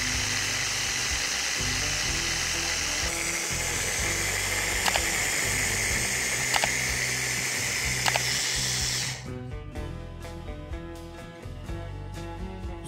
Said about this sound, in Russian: Все хорошо перебиваем.